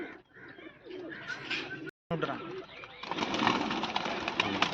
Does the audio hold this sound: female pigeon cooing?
yes